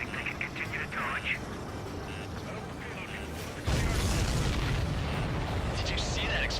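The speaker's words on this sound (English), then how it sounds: "Did you see that explosion?" Heavy in-game explosion in Ace Combat 7: Skies Unknown, a sudden loud broadband boom midway that holds as a sustained roar over jet and game noise, with radio chatter in the background.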